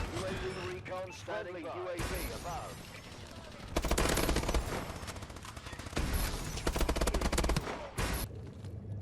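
Gunfire in Call of Duty: Advanced Warfare on PS3, with loud shotgun blasts and rapid bursts of in-game shooting while a player talks throughout.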